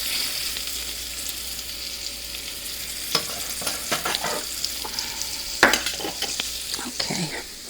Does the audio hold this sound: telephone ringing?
no